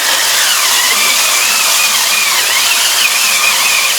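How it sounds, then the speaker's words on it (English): Electric scrubber buzzes steadily while scrubbing out a kitchen sink after dishes, a loud continuous motorized whine with slight wavering pitch and no speech. "I can scrub my sink out"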